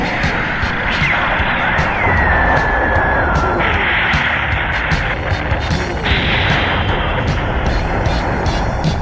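Weapons fire in Super Robot Wars 30 as a loud, continuous barrage of rapid blasts over a roaring mechanical drone, with sweeping whooshes passing through.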